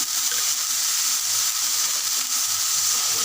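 Rohu fish pieces frying in hot oil with turmeric, chili, salt, cumin and coriander, a steady loud close sizzle and hiss with no voices.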